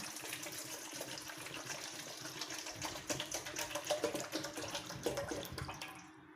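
Clean water poured into a pot for pandan sugar syrup, a quiet, steady splashing gush that swells slightly toward the end before stopping abruptly.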